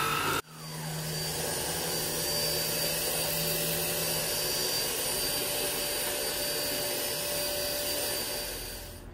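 A Hoover ONEPWR Evolve Pet cordless upright vacuum cleaner starts with a click and then runs steadily, loud and close, as a constant whining motor roar that continues alone to the end.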